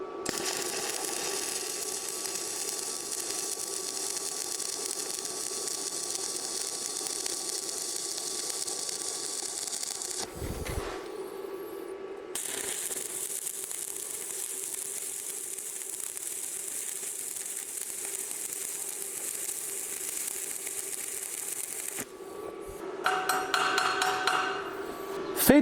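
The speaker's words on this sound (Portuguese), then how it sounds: "Agora é hora de soldar." A weld bead is laid on a metal piece in a continuous crackling, sizzling hiss, which breaks off briefly partway through and then resumes, growing slightly rougher near the end.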